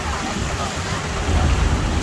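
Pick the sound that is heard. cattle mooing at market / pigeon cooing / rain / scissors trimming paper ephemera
rain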